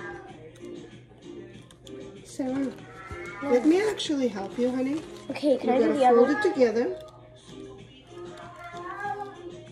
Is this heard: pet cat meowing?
yes